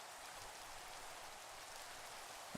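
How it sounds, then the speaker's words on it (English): Steady rain falling in the video game Minecraft (FTB Evolution), a dense, even hiss of raindrops that continues without letup, heard alone with no voices. "Still raining."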